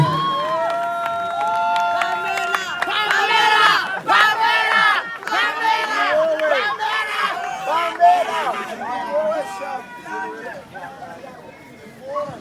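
A large concert crowd cheers and shouts together for a singer on stage, voices rising and falling in waves of excited yelling that gradually taper off.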